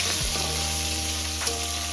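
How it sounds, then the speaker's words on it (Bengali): Fish bones lightly frying in hot mustard oil give a steady, close, dense sizzle that holds evenly throughout, with a small pop near the end and no voices. "মাছের কাঁটাগুলোকে আমি এরকম এক এক করে ভেজে নিয়েছি।"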